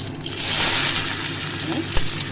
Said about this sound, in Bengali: তেল গরম হয়ে গেছে, তাতে আমি গোটা জিরে তেলে দিলাম।